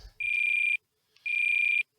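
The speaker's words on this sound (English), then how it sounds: "ESC going off." Electronic warning beeps from the speed controller of an E-flite UMX Turbo Timber RC airplane: two long, steady high-pitched tones, each about half a second, separated by a short pause, loud and close with no talk.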